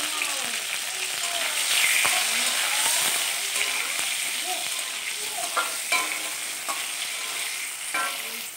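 Pointed gourd (potol) frying with salt in a pan, a steady close sizzle punctuated by scraping stirs and occasional sharp ticks of the spatula against the pan.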